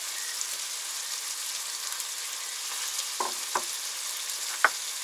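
Beef frying in a pan outdoors for a village-house dinner: a steady, close sizzle runs throughout, with a few sharp utensil clicks toward the end.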